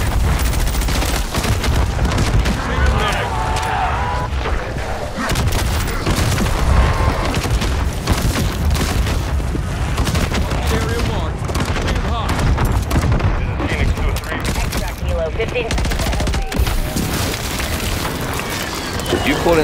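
Airstrike explosions and rapid gunfire from Call of Duty MW3 rumble and crackle continuously through a dense, loud battle mix, with booming impacts layered over steady shooting and voices talking over it.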